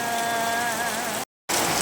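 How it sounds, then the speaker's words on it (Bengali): Heavy rain pours down at a village house in a steady, dense hiss with a faint tonal hum underneath, cutting out briefly near the end before resuming. "এই যে কত বৃষ্টি হয়ে গেল বাড়ির মধ্যে একদম পানি জমে গিয়েছে"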